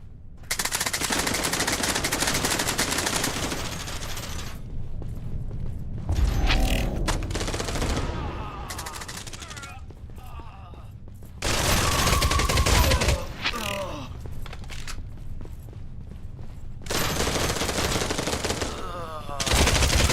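Bursts of automatic machine gun fire from a drum-magazine weapon in a video game, several sustained volleys separated by short pauses, loud and close with faint background sounds between bursts.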